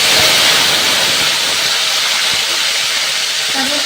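Curry leaves drop into hot oil with fenugreek seeds for a fish gravy and burst into a loud, continuous hissing sputter, close and dense throughout, with no talking.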